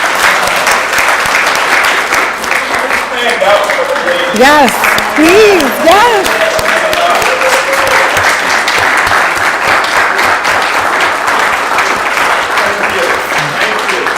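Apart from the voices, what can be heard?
applause for honorees at council meeting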